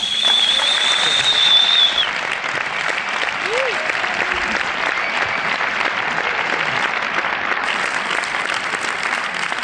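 An audience at a health talk on protein breaks into loud, sustained applause, a dense wash of clapping that carries on evenly for several seconds.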